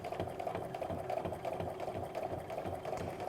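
A sewing machine quilting straight lines across half square triangles with ruler work, running in a fast steady mechanical whir with rhythmic needle pulses, close and continuous, no talking.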